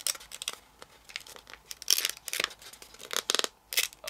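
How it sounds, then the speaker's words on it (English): Origami paper folded along a diagonal crease for a 3-D impossible triangle tribar model: a string of close, crisp crinkling and rustling bursts, some louder sharp creasing snaps, with short quiet gaps between. "now we're going to turn over and fold the diagonal"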